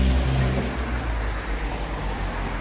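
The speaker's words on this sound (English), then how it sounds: "So that was a particularly loud car." A loud car roars past close by, its engine noise strongest at the start and then easing into a steady road rumble.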